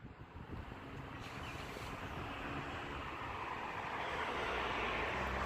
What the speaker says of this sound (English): Sorry about the road noise, folks.